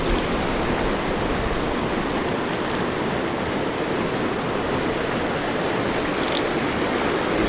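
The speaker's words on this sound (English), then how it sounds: "Netting these fish in this fast water is tough." Loud, constant rush of fast-flowing river water, a dense roar that fills the whole clip without pause.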